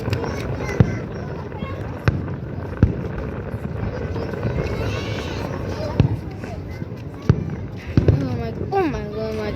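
Fireworks burst in a string of sharp pops and thuds spaced a second or two apart against a steady outdoor rumble, with people talking excitedly throughout.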